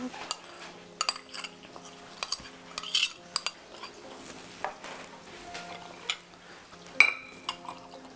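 Metal clinks of a fork against a pot of cooking food: scattered sharp taps and scrapes at an irregular pace over a soft background sizzle, close and moderately quiet, with no talking.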